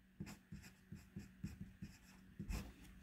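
Pen or marker strokes on a board during a calculus lesson on the chain rule, a series of short, faint, evenly spaced taps and scrapes with no talk over them.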